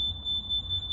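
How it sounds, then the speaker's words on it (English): Alarm on a 2011 Triumph Tiger 800 motorcycle resets with a steady, piercing high-pitched electronic tone that pulses slightly in level for about a second, close and alone. "That is the alarm just resetting."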